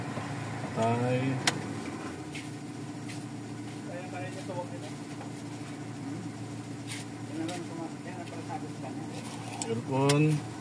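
A Toyota Corolla with a 4A engine idles with the air conditioning off, a steady low rumble with a slight shake, while someone talks over it nearby.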